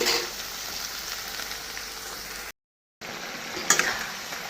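Cumin seeds, bay leaf and dried red chilli crackle and sizzle steadily in hot oil as a vegetarian jackfruit dish is started, a dense close frying hiss broken by a brief gap and a few sharp pops near the end.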